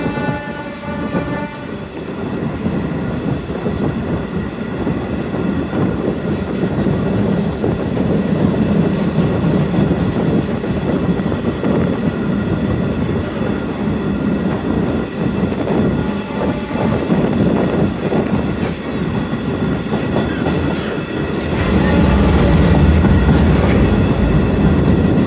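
A stone-carrying freight train rolls from Dhaka toward Bhanga over the Padma Bridge route, a loud continuous rumble and rail clatter heard from on board as it gathers speed.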